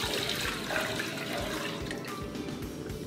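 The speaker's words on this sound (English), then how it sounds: "over high heat, I'm gonna pour in 4 cups of water" Water gushes and splashes steadily into a vessel for a few seconds, a full, close, continuous pour with no talking.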